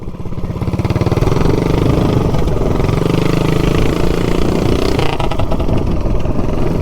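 A 420cc minibike engine revs loud and close, a steady high-pitched drone holding at full throttle with little variation.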